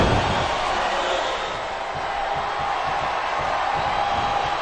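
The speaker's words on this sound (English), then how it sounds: "Sounds like this crowd's got something on their minds, King." A wrestling arena crowd in the Smackdown vs Raw 2008 video game roars in a steady, dense wash of cheering and chanting, loud and continuous throughout.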